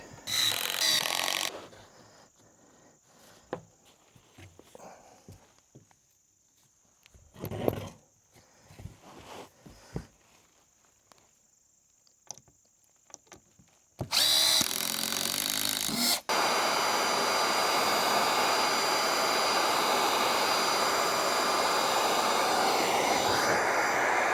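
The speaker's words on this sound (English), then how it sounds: "put a couple screws and see if we can't work some magic." A power driver sinks screws into wood during a woodworking build, with scattered handling knocks followed by loud, close, sustained motor whines in long bursts, the last running steadily to the end.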